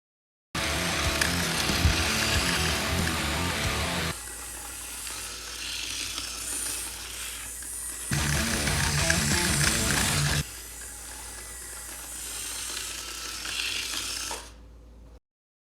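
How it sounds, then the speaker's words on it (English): A homemade mini RC combat robot drives along with its duct-tape wheels and a front end dragging on the ground, giving a continuous buzzing, ratcheting mechanical scrape that swells and eases in several sustained bursts. "a front end that scrapes against the ground the whole time"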